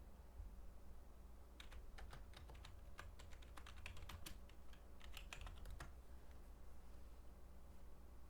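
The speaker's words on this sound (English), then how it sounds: "Oh, my typing has gotten so much worse." Computer keyboard typing comes as quick irregular clicks in short bursts over a quiet low hum, faint and close, with no talk.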